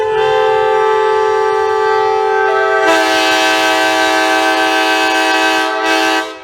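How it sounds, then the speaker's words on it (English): A train horn blares loud and close in one long sustained chord that shifts pitch partway through and cuts off abruptly at the end. "the specific high frequencies that are part of the train horn which make this a very painful sound"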